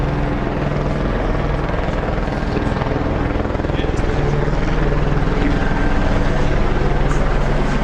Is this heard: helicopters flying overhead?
yes